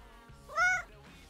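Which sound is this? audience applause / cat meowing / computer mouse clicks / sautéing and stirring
cat meowing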